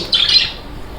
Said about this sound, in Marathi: सकाळी सकाळी पक्ष्यांचा आवाज खूप किलबिलाट चालू आहे पक्ष्यांचा